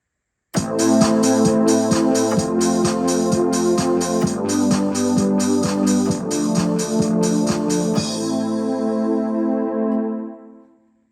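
A Casio CTK-691 electronic keyboard plays a steady, rhythmic pattern of chords over a beat, then stops and the last notes ring out and fade.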